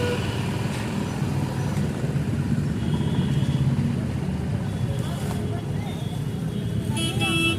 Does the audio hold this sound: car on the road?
yes